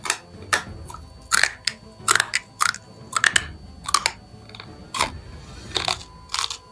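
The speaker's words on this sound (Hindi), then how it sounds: "ये देखिए बाबा जी कांच खा रहे हैं कैसे" A man bites and chews shards of glass from a jeep, giving a series of sharp, irregular crunches and cracks spread across several seconds, close to the microphone, with no talk over them.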